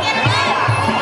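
Female fans cheering in a crowd at a Muay Thai bout, a steady, loud wash of massed voices with rhythmic bursts of shouting rising and falling close by.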